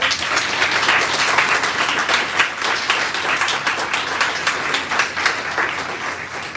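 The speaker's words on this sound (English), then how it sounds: "if we can give him a round of applause" Sustained audience applause at a foster care launch event, loud and dense with individual claps standing out, steady throughout.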